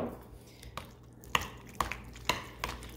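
Creamy clam dip stirred with a splash of clam juice in a bowl, a few soft scraping and knocking strokes of a utensil against the dish, close and fairly quiet in a calm kitchen.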